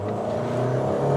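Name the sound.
manual car revving and driving off with wheel spin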